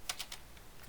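Keys clacking on a computer keyboard as a server command is typed: three quick, crisp strokes close by, then fainter taps, with no talking.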